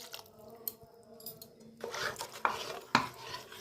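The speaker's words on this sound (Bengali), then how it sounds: "আমাদের এখন এইভাবে নাড়তে হবে, না নাড়লে এটা ফটফট করে ফুটবে" A thick spice paste being stirred in a pan for a cauliflower roast gravy, with soft scraping and clinking utensil strokes growing louder in the second half, including a few sharp knocks against the pan.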